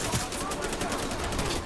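Rapid automatic gunfire in a space-map video game rattles densely and loudly through a short burst as shots pepper the player, with constant crackling impacts throughout.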